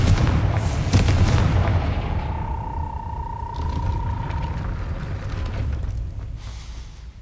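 A Confringo fire spell from Hogwarts Legacy goes off as a deep booming blast, with a ringing tone that trails away over several seconds of rumbling game ambience.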